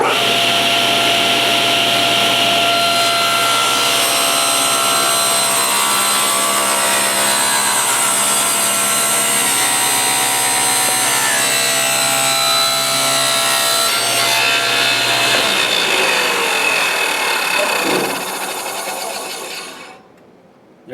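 A table saw rips slowly through a wooden board in a workshop, a loud, steady high whine with grinding buzz that holds for about eighteen seconds, then the blade spins down and fades to silence as the machine shuts off.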